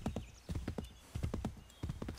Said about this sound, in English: I will probably have to start using horses more often just to get faster to from point A to point B more quickly.